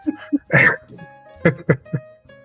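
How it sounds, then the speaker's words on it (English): Woman coughing from allergies in Texas during a podcast conversation, a few short harsh coughs and throat-clearing bursts, close to the microphone and mixed with spoken talk. "As she's coughing herself to death"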